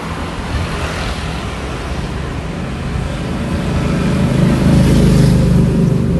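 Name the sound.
street traffic in Phuket, Thailand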